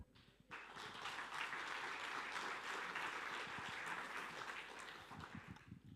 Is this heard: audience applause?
yes